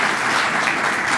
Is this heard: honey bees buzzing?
no